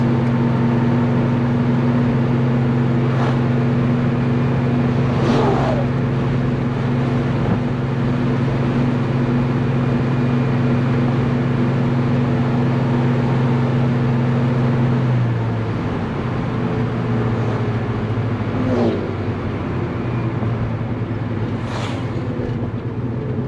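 Engine of a 1970 Chevelle with a Holley Double Pumper carburetor cruising at light throttle, a steady loud droning hum with a low tone that shifts pitch partway through, plus faint clicks.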